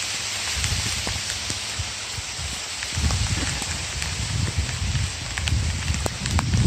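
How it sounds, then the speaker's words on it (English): Monsoon rain pouring down beside a small natural channel on a rainwater-harvesting property, a steady, dense hiss of drops with heavier low rumbling patter, close and continuous throughout. "Okay, it's raining."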